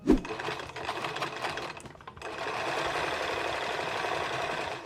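Sewing machine edge stitching along the bottom of a 3D cargo pocket on a utility vest, a steady close whirring run after a brief start-and-stop, with no talking.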